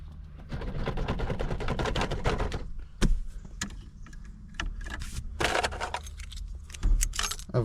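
Keys jangle and clink close by in a steady, busy rattle, with a few sharper metallic knocks near the end.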